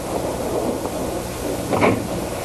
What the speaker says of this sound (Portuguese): Droga, está chovendo!